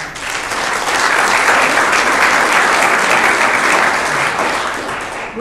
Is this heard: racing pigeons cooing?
no